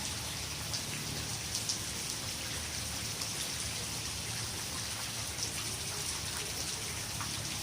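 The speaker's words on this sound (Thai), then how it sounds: "ฝนตกขนาดนี้" Heavy rain pours steadily on flooded rice fields in Thailand in a dense, even hiss, with scattered drips and splashes close by.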